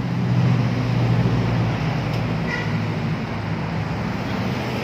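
A bus passes on the road through Nagreg at night, a steady, fairly loud engine-and-tyre roar with a low hum and no voices.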